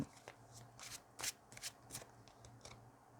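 A deck of tarot cards is shuffled by hand, giving soft riffling flutters and light slaps in uneven bursts, close but quiet, with no speech.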